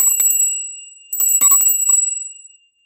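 A small hand bell rings in two clear bursts of bright jingling, close and loud, each ring decaying away into silence.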